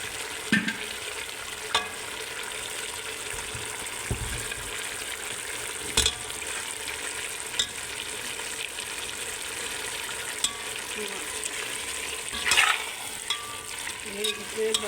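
Fried capsicum being stirred into minced meat keema in a pan, with a steady low sizzle under scraping spoon strokes and a few sharper clinks of utensil against the pot.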